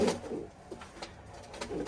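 Domestic pigeons cooing softly nearby, a few low, muffled coos spread across a short, fairly quiet stretch.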